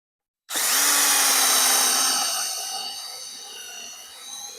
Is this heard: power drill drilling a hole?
yes